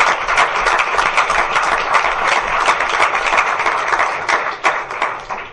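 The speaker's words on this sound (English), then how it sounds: "let's give a round of applause to those folks" A small audience at a school board of education meeting applauds retiring staff, with a dense patter of claps holding steady for several seconds before trailing off.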